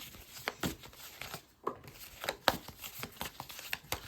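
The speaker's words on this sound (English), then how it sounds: "All right, let me shuffle them up." Rapid papery riffling and soft snapping of playing cards being shuffled, close by, in several quick bursts over a few seconds.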